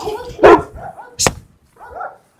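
A few sharp dog barks and yelps in quick succession during a dog fight, close by, with short pauses between them.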